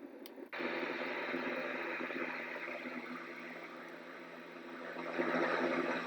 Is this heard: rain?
no